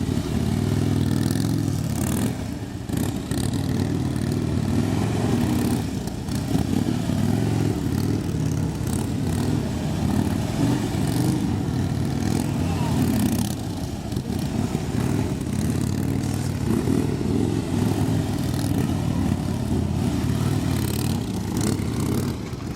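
Police motorcycle engines drone and rev steadily nearby for a long stretch during a riding skills demonstration, with occasional clattering and rises in throttle.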